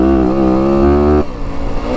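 A 2025 Yamaha WR 250F dirt bike engine on its hot map revs loud and close, a steady high-pitched whine that holds strong, then drops to a rougher, choppier idle-like burble for the final stretch.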